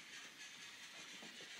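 A toy train runs around its track at home with a faint, steady hissing rumble and light clicking, quiet and without talk.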